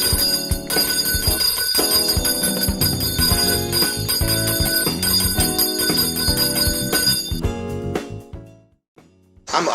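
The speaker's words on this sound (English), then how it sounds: "hear that bell, baby, you know something amazing is about to happen." A bell rings loudly and repeatedly in a steady pattern, with bright sustained overtones filling most of the clip before cutting off near the end, with no talking.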